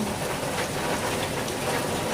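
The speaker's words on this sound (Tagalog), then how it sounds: "Ang lakas ng ulan." Steady, dense hiss of heavy rain pouring down, loud and unbroken, with no voices.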